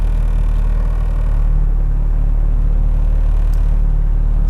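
Turbocharged AWD B-series engine running steadily, a loud, close, continuous low rumble with a firm idle pulse and no voices over it.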